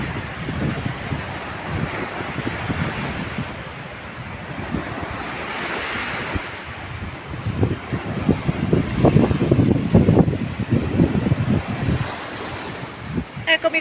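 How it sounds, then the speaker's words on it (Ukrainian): Calm sea waves wash and break along the shore in the evening, a steady surf hiss with wind buffeting the microphone, building toward several closer splashing surges near the end. "Але все одно море спокійне."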